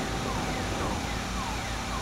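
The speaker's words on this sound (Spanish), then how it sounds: "Hay que prender las sirenas de que llevamos un carro con precaución." Tow truck siren in the video game GTA 5, a steady electronic wail with repeating rising sweeps, continuous and fairly loud over a low rumbling engine and road bed, with no talk.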